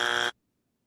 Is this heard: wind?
no